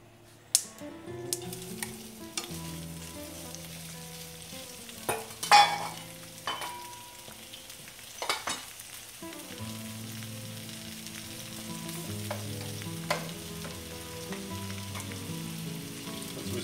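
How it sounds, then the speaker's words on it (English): Chicken pieces frying in a paella pan, a continuous crackling sizzle punctuated by sharp scrapes and clacks of stirring, close and fairly loud throughout, with no talking. "grilling it a little bit, or frying it a little bit so that it holds"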